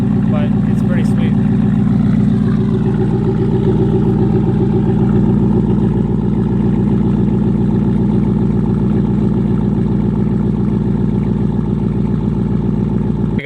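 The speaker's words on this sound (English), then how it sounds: "There's nothing else I'm really going to do with the exhaust on this truck because it's insanely loud." A Ram 1500 pickup truck with a very loud aftermarket exhaust idling steadily up close, a deep continuous rumble throughout with a faint brief higher sound near the start.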